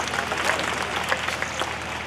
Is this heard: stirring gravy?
no